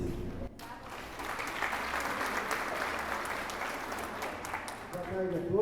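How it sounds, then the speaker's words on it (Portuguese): A crowd applauds steadily at a cooperative's Pink October event, with the clapping moderately distant in a large room. A voice speaks briefly at the start and again as the applause winds down. "uma salva de palmas para vocês"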